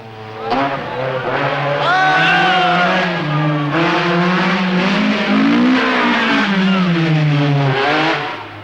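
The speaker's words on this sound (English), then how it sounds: "Darniche was still ahead, driving with impeccable coolness on the slippery morning stages." A rally car on a slippery morning stage of the 1977 Tour de Corse in Corsica, driven by Darniche, revs hard, its engine note climbing and falling through gear changes, loud and close throughout.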